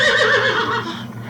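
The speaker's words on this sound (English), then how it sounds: "Did the tape player eat the horse sound effect tape?" A horse whinnies in an 80s movie, a loud quavering neigh that trails off over about a second.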